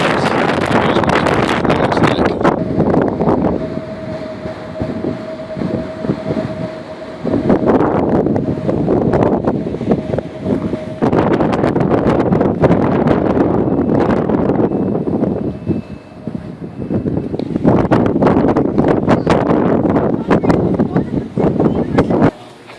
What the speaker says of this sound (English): So it's only 50-mile-an-hour gusts up here.